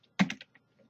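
A short burst of typing on a computer keyboard, a quick cluster of four or five close clicky keystrokes followed by a couple of fainter taps in a quiet room.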